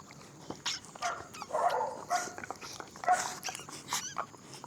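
A dog whimpers and makes small yips and snuffling noises close by, fairly quiet, in short irregular bursts.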